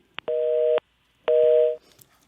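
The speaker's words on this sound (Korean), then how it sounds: "지금 우현식 의원과 전화 인터뷰를 하고 있는데 잠시 연결이 좀 끊어진 것 같습니다." Telephone busy tone heard after a phone interview connection drops during a Korean radio talk show: two long steady beeps separated by a short gap, loud and clear with no talk over them.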